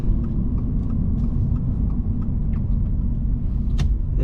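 Low, steady exhaust rumble from a 2024 Toyota GR86 with a manual gearbox while driving, a constant deep drone heard from inside the cabin for a few seconds, with no talking.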